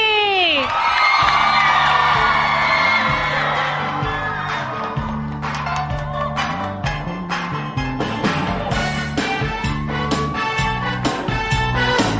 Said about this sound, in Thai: ตอนนี้ขอเสียงกรี๊ดดังๆ